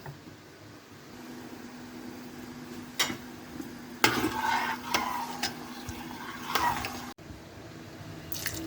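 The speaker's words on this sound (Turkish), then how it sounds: "Bu arada dövmem kaynıyor" A pot of wheat for ashure bubbles at a low simmer under a soft steady hiss, broken by a few sharp clinks and stirring sounds.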